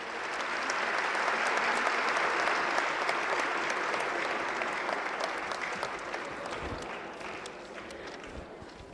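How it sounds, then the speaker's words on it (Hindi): Dense, sustained applause from a large audience at a religious discourse gathering, a steady wash of clapping that holds for the full span and eases slightly toward the end. "तालियां एक बार जोरदार बनती हैं।"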